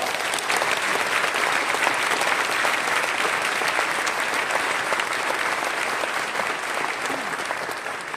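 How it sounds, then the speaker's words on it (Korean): A church congregation gives a sustained round of loud applause to welcome a visiting preacher, the dense clapping steady and continuous throughout with no speech over it. "목사님을 환영하는 마음을 담아 큰 박수로 맞이하도록 하겠습니다"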